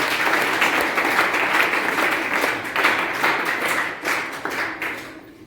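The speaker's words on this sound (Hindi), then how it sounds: "एक बार जोरदार तालियां" A crowd at a gathering bursts into sustained applause, dense steady clapping that swells and fades in waves before tapering off at the end.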